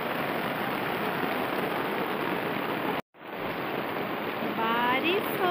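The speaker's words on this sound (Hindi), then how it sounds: "बारिश हो रही है, बारिश।" Steady heavy rain falling outdoors, a dense, loud, even hiss that drops out for a split second and then returns, with a faint voice appearing near the end.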